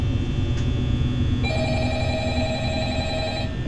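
In the Five Nights at Freddy's video game, a telephone rings with a continuous electronic bell tone that grows fuller partway through, steady and fairly loud over a low background hum.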